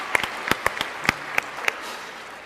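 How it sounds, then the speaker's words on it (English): A debate audience breaks into applause, a spread of sharp individual claps rising over a soft crowd wash, sustained and moderately loud throughout. "So I think we should all give him a round of applause."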